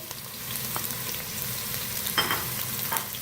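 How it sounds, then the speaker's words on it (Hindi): Two large onions frying in about three-quarters of a cup of hot oil, a steady close sizzle with occasional stirring scrapes and clinks, no talking. "प्याज हमारा फ्राई हो रहा है"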